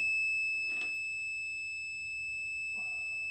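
A toy alarm system gives a steady high-pitched electronic tone that drones continuously, with a brief burst of noise early on and a faint extra tone near the end.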